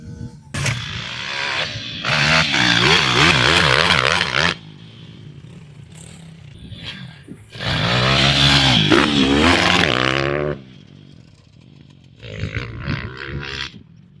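A Chinese pit bike is ridden hard on a kids' supercross track, its small engine screaming in long, loud revving surges that drop to a lower idle between bursts, close to the listener.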